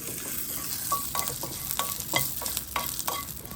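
Onion and curry leaves fry in a pan for Jaffna crab curry, a close, soft sizzle broken by repeated scraping stirs at an uneven rhythm, with no voices.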